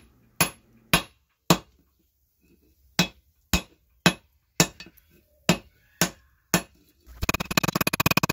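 Hammer blows forging a welded steel billet on an anvil for a folding knife: ten sharp, ringing metallic strikes at an irregular, spaced rhythm, then a fast burst of rapid clattering hits at the end.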